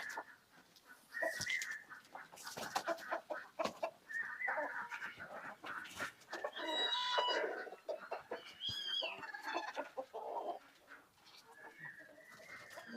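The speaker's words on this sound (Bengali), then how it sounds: "দেখুন কত মুরগি দেখুন" A flock of desi chickens clucks and squawks continuously at close range, with sharp calls and a few rising cries layered over one another, no voices.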